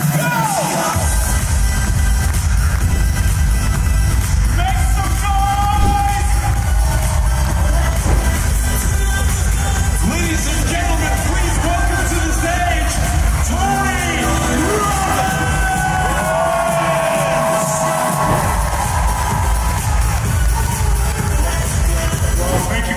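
A large conference audience at a real estate company's family reunion event cheers and yells loudly and continuously, with whoops and shouts forming a dense roar that swells and dips throughout.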